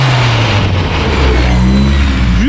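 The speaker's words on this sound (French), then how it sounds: "Et écoutez le turbo" A 20VT turbo engine on a test bench revs loudly and steadily, with a deep rising drone and turbo whine building, close and continuous with no talk.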